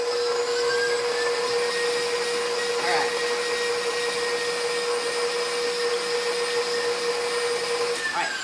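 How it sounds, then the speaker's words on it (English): A KitchenAid stand mixer mixing low carb pumpkin bread batter, a loud steady motor whine and hum running throughout, with a brief voice near the end. "my KitchenAid is really, my mixer is really loud for some strange reason"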